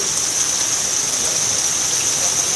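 Steady heavy rain pours down at an open bull race field, a dense continuous hiss that fills the space evenly and loudly without pause or voices.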